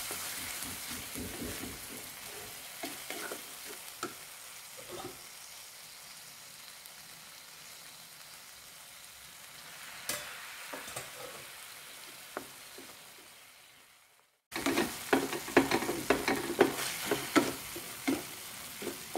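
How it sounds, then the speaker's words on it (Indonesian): Spice paste for a Medan-style chicken noodle soup is stirred in a pot over the heat, giving a soft, steady sizzle with scattered utensil scrapes; after a brief dropout the hiss and stirring return louder and busier. No one speaks. "kemudian kita aduk-aduk dulu"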